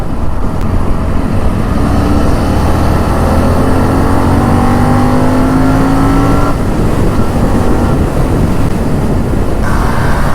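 Hero Splendor motorcycle racing alongside on a road trip home from Badrinath: a loud, steady engine and wind roar runs throughout, with rising revs as it accelerates and no talking.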